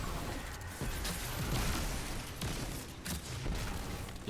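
Skip grenades in the Destiny 2 video game burst in a rapid cluster of sharp pops and booms over a dense rumbling wash of game noise, loud and close, with several hits in quick succession.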